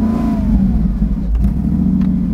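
A Mercedes McLaren SLR's engine revs loud and close through an exhaust sitting right beside the cabin, a deep steady drone with a rising whine near the start and no voices over it.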